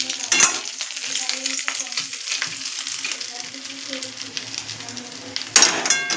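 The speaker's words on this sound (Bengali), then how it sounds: "মাছের মাথাগুলো আমি মিডিয়াম আঁচে রেখে ঢাকা দিয়ে ভেজে নিয়েছি" Hilsa fish heads fry in oil with a continuous crackling sizzle and light clinks of utensils against the pan; two louder bursts of hissing stand out at the start and near the end.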